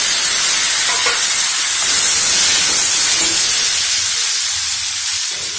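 Boiled chickpeas are stirred into a hot tempering with turmeric and asafoetida, giving a loud, even hiss and soft sizzle that fades slightly toward the end, no talking.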